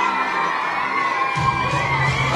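A crowd of elementary school children at a Miami school book drive cheers and shouts excitedly, a loud continuous roar that swells further partway through.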